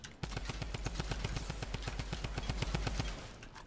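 Automatic gunfire in Fortnite, a fast, evenly spaced stream of about twenty shots over three seconds, fairly faint and steady, with no talk over it.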